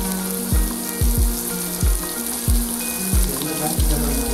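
Vegetables sautéing in a pan for wheat rava sambar rice, carrot and beans among them, give a steady close sizzle broken by about seven quick scraping stirs in a regular rhythm.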